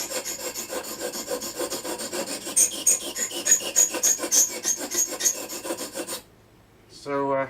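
A TUSQ guitar saddle blank being filed by hand, a steady run of piercing, rasping strokes at close range, each stroke grating harshly before stopping near the end.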